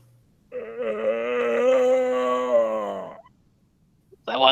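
A man's long drawn-out yawn, given in place of a requested burp, rising in a steady groaning tone for a few seconds before tapering off, close and loud, followed by the start of another voice.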